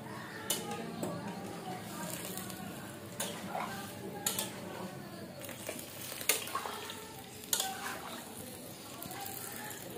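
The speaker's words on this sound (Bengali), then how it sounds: "এটা দিয়ে আমি আরেকবার একটু নাড়াচাড়া করে দেব।" A spoon stirs seasoned food in a pot before it is covered to steam, making soft continuous scraping with a few sharper knocks against the pot at a moderate, fairly quiet level.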